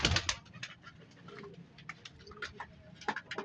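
A high-flying pigeon coos and stirs amid sharp ticking taps and rustles, the sounds close and intermittent in short bursts.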